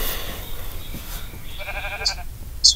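Sheep bleat in a video game PvP match where pink sheep are being killed, short synthetic bleats over steady background game noise, with sharp bright sound effects near the end.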